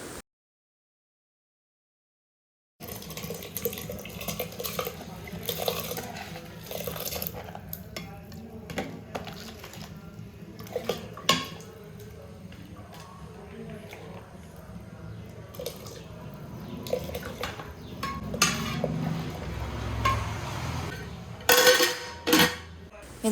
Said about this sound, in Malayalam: ഇനി നമുക്ക് നമ്മുടെ അരി കഴുകി അതിലേക്ക് ഇട്ട് കൊടുക്കാം